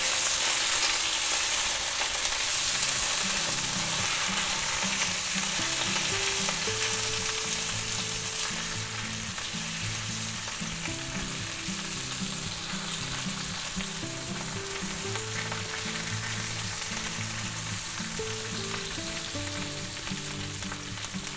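A large knob of butter melts and sizzles in a cast iron skillet beside thick boneless pork chops. A loud, steady frying hiss runs throughout, with a low repeating background pattern beneath it and no speech.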